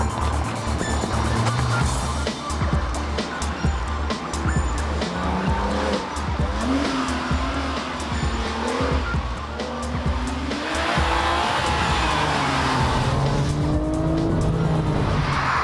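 A Mercedes SL55 AMG spins its inside rear wheel on a public road, tyres squealing over a loud, continuous engine roar with wavering pitch for about fifteen seconds, close and steady.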